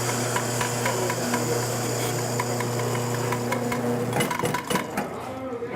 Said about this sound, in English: So then I'm going to grind this here.